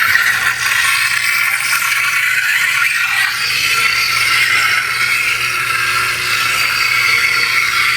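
Blade lockup effect from a Scraptec Neopixel lightsaber running a Proffie board: a loud, sustained crackling buzz that holds steady for several seconds with no voices.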